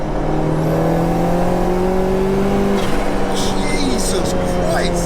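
A turbocharged 2.1-litre stroker Peugeot 205 GTI accelerates hard in fourth gear, its engine note climbing steadily and loudly from inside the car while occupants exclaim over the roar.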